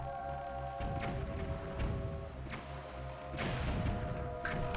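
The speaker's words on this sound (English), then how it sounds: "Oh, he blew up his own cannon." Cannon blast in The Legend of Zelda: Wind Waker, a series of loud crashing booms over steady game music and hum, the heaviest burst near the end.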